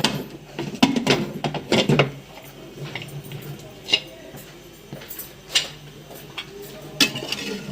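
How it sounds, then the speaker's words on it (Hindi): A pressure cooker is opened in a home kitchen, with a series of sharp metallic clicks, clanks and lid knocks scattered over several seconds and a quiet hum underneath. "कुकर खोल लेंगे।"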